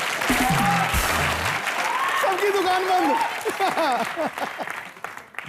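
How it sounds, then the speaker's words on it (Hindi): A studio audience at a televised comedy show bursts into loud, sustained applause and cheering that fades toward the end, while someone speaks over the noise. "जोरदार तालियां एक बार।"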